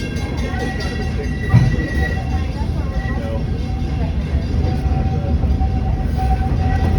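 Walt Disney World Railroad train rolling steadily with a continuous low rumble and rail noise, heard from on board, with an announcer's voice partly over it.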